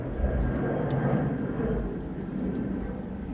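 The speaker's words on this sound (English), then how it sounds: "I'll just wait for the plane noise to die down if you don't mind." An airplane flying overhead near Fort Bliss, a broad, steady rumbling roar that fills the background throughout, moderately loud with no talk over it.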